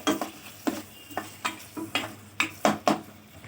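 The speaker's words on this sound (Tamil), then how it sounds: "விட்டு மறுபடியும் நல்லா மிக்ஸ் பண்ணி நல்லா வதக்கி விட்டுக்கோங்க" A spatula scrapes and stirs capsicum chili thokku sautéing in oil in a pan: about a dozen evenly spaced scraping strokes, close and clear, with a faint sizzle beneath.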